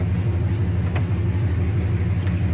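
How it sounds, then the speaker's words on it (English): Heater fan blowing inside a 1966 Chevelle SS convertible, a steady even whoosh over a low engine hum, constant and unbroken with a couple of faint ticks. "Here's your heater fan."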